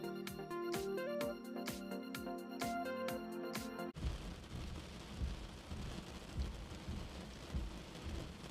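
Heavy rain pours down in Coorg near a ropeway. A steady, close downpour with deep low rumbling starts abruptly after a few seconds of music and continues without speech.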